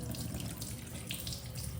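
Water runs from a washbasin tap in a home as a thin, continuous trickle, steady and close, with no voices over it.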